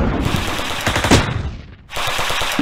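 Heavy machine gun fire in the Close Combat war game: loud, rapid bursts of shots rattle continuously, break off briefly, then resume.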